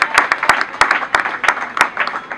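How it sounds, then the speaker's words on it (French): A small audience at a training session claps for the trainer in a loose, uneven patter of distinct, sharp hand claps that carries on steadily. "Est-ce qu'on peut applaudir pour le formateur?"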